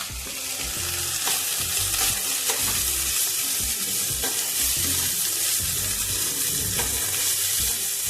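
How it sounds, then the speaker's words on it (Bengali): Rice frying and being stirred in ghee for peas pulao, with a steady loud sizzle and repeated scraping stirs throughout, no voices. "এক চামচ ঘি আমি চালটা ভাজার জন্য ইউজ করলাম।"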